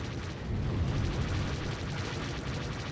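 Missile explosion in the space-combat video game SWTOR Galactic Starfighter, a dense rumbling blast roar that holds steady for a few seconds without any talk.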